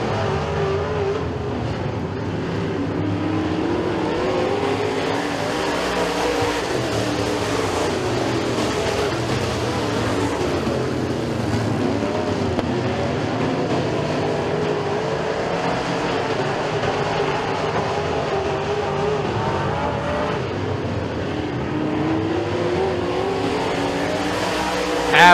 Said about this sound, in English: Kyle Streckengast digging in that 29X machine